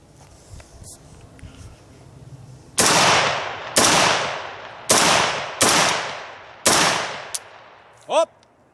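An AR-15 chambered in 7.62x39 fires steel-cased Red Army Standard rounds at an outdoor range, five sharp, loud shots spaced about a second apart, each followed by a short decaying echo, with a faint click or clatter at the end.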